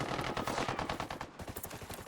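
Rapid sniper and automatic gunfire in the video game Ghost Recon Wildlands, a dense sustained volley of shots that stays loud throughout before thinning slightly toward the end.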